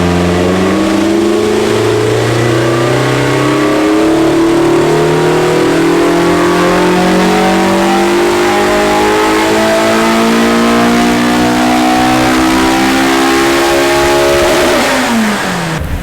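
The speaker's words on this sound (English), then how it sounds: "Got the car and the dyno ready to give it a quick run up." A Toyota AE86 with a fully worked 4A-GE/7A-GE engine revs on a dyno in one long, loud, continuous pull, its engine note climbing steadily before dropping off sharply at the end.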